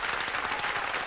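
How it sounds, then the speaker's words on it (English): Applause from a studio audience at a hip-hop talk show, a brief burst of dense, fairly quiet clapping. "Tone, keep the round of applause going."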